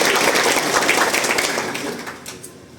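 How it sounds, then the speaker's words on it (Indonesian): A community gathering at an Indonesian Independence Day celebration breaks into clapping, a crisp burst of many hands that fades over a few seconds. "Tepuk tangan semua."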